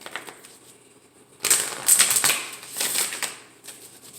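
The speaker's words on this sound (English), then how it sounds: "And one more shuffle." A deck of cards is shuffled during a tarot-style reading, producing a quick burst of rustling and flicking riffles that swell, fade and return, close and fairly loud with no speech.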